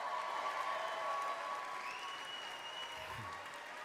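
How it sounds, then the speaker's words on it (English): Audience applause filling a large room, steady clapping and crowd noise that slowly eases, with a faint cheer rising partway through. "You clap for that."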